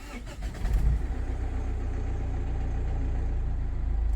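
Mazda 6 with the 2.2 MZR-CD diesel engine starting up right after an oil change: a brief cranking churn, then the engine catches and settles into a steady, loud, close idle with a low rumble and a rough knock.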